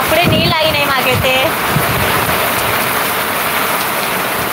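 Heavy rain falling hard, a loud, continuous hiss of water pouring down and splashing close by, with a person speaking over it in the first second or so.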